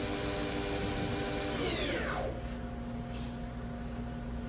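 A 2008 Haas TM-3P CNC vertical machining center spindle whines steadily at 6,000 RPM, then the high tone sweeps down as it slows, leaving a lower steady machine hum, close and continuous with no talking.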